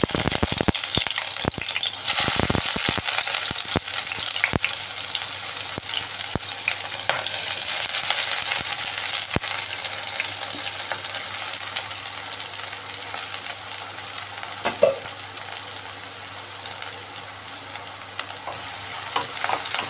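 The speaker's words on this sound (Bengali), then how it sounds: "এই রিফাইন্ড অয়েলের মধ্যে এখন আমি পেঁয়াজের বেরেস্তাগুলো ভেজে নিচ্ছি।" Onions frying for crispy birista in refined oil in a wok over high gas flame, a steady bright sizzle with repeated scraping and stirring clatters, close and continuous with no voices.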